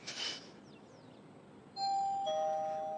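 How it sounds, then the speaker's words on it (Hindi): An electronic doorbell chimes with two sustained ding-dong tones, clear and fairly loud after a short burst of noise and faint background hiss. "इस घर में घंटी बजनी बंदी नहीं होती"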